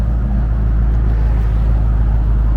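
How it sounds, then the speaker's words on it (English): A car pulls up with a steady, close, low engine rumble that holds at an even loudness throughout, with no other sounds over it. "Car's pulling up right now."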